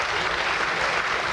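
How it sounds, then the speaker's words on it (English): A conference audience at a ministerial panel of a policy dialogue forum applauds the ministers, a dense, even wash of many hands clapping at full strength throughout. "I would like to give you one more round of applause to the ministers"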